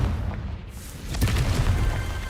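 A deep, rumbling boom from a Confringo blasting spell in Hogwarts Legacy, swelling midway through a dense layer of noise and lingering as a sustained roar.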